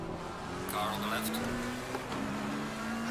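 A GT race car in Assetto Corsa Competizione at Misano drones alongside, its engine note climbing and dipping as it pulls past on the left, fairly faint under a driver's occasional speech.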